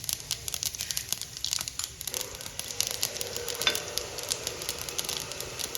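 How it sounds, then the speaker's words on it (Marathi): Mustard seeds and cumin tempering in three spoons of hot oil, a steady close sizzle with sharp crackling pops and spits, no talking. "आपण तडका तयार करतो आहे त्यासाठी तेल घेतलं आहे तीन चमचे आणि मोहरी मी भरपूर घातलेली आहे"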